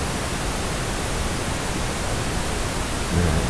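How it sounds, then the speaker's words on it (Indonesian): Steady pink noise test signal injected through a mixer for real-time analyzer measurement. A dense, even hiss fills the whole span at constant loudness, with no talk. "ini sama kalau kita inject pink noise"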